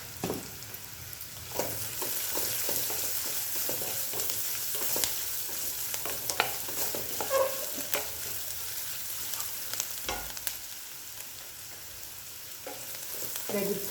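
Oil sizzles quietly in a pan while frying for methi huli rice, with repeated clinks and scrapes of a spoon stirring through a steady low hiss, and no one speaks.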